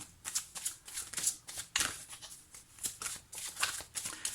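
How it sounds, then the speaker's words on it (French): Tarot cards being handled and laid down on a table during a reading, a close, busy run of papery flicks, riffles and soft slaps, fairly quiet with no voice. "je vais mettre une deuxième carte."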